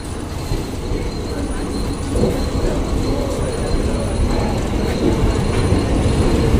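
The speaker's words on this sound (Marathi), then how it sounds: "बघू शकता आपली ट्रेन आलेली आहे" A Mumbai local train pulls into Kandivali station, its wheels rumbling and squealing with a rising clatter of rail cars, mixed with crowd chatter on the platform.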